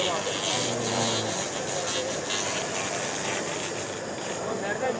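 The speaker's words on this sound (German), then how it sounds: "der junge Mann ist hier ein bisschen am Laser reinigen" Laser cleaning machine at work on a trade fair floor, a steady broad hiss and rasp running continuously throughout amid busy hall noise.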